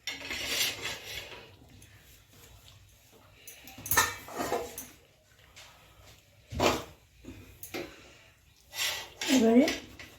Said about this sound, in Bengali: এবারে আমি তাওয়াটা বসিয়ে দিচ্ছি।